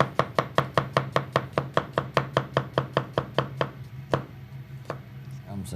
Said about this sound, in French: Je vais prendre de l'oignon rouge comme ça. OK? On va le couper en petits filaments comme ça.